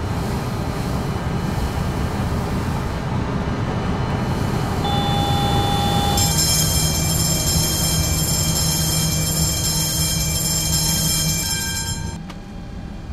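A tram in the OMSI 2 bus and tram simulator passes through, a loud, steady rolling rumble with a sustained whine and tonal hum for several seconds before easing off near the end.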